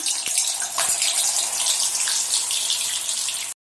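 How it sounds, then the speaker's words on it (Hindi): Paneer fries in hot oil with a loud, steady hissing sizzle that runs evenly for about three and a half seconds and then cuts off abruptly. "तेल अच्छे से गर्म हो चुका है, हम इसमें पनीर फ्राई कर लेंगे।"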